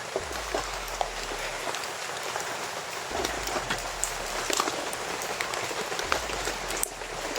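Steady rain patters on a surface nearby, a constant hiss with scattered drops, while a low rumble swells and fades at intervals beneath it.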